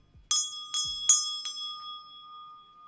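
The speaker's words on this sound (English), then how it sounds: "Shout out to the crown chakra bell." Crown chakra bell struck four times in quick succession, each strike a bright clear ring that sustains and slowly decays into silence, close and alone with no talking.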